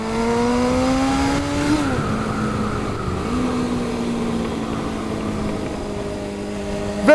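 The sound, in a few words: 1993 Kawasaki Zephyr 550 motorcycle engine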